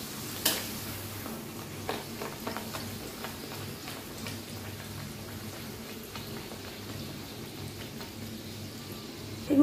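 Bhature frying in hot oil for chole bhature, a steady soft crackle and sizzle with scattered light ticks and pops, fairly quiet and continuous with no talk.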